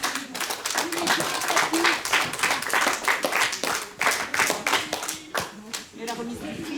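An audience at a 25th-anniversary celebration for Les Vergers d'Antan claps for a painter, a steady burst of many hands lasting several seconds, with voices talking and calling over the clapping throughout.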